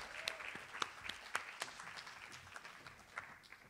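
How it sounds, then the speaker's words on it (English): Poetry Africa's audience in Durban applauds a poet. The clapping is fairly faint and distant, with a few sharper individual claps standing out above a soft, continuous patter for about four seconds. "Let's give you a round of applause."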